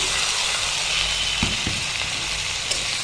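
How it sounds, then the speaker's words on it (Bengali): Soaked mung dal frying in a pan with cumin and ginger paste, a continuous loud sizzle with a couple of brief stirring clicks partway through, no voices. "ডালগুলো ভাজা হয়ে গেছে।"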